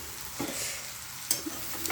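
Small bitter gourd fry with chili powder gets stirred in a pan, a soft, low sizzle with a couple of brief scraping strokes, close and quiet.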